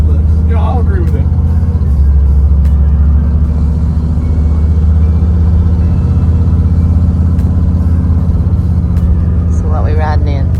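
Loud, steady low engine and road rumble fills the cabin of a moving classic 1955 Chevrolet Tri-Five, continuous throughout, with people talking over it.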